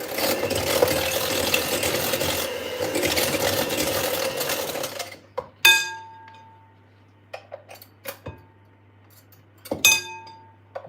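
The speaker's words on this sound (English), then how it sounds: "But I'm just gonna get my whisk ready. So just whisk it." Pastry ingredients are whisked in a bowl: first a dense, fast whirring swish for several seconds, then sparse sharp metallic clinks of the whisk against the bowl, close by.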